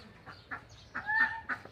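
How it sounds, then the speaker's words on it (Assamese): A farmyard chicken gives several short, faint clucks, with one higher rising call in the middle, heard alone over a quiet rural background. "এই কুকুৰা চৰাই"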